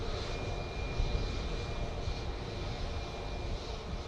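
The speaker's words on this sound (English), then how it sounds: "Boeing 737-800 MAX." A Sun Express Boeing 737-800 MAX jet at Manchester Airport roars steadily at close range, its engine noise loud and continuous, with a thin high whine running through the broad rumble.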